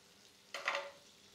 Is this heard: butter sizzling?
yes